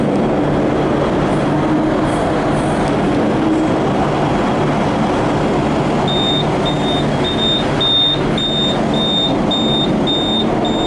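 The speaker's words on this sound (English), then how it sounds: "I'm riding this train to Bendigo" Steady rumble and rattle of a V/Line N set passenger train hauled by locomotive N467 on the run to Bendigo, heard from inside a carriage, continuous and loud, with a thin high tone entering partway through.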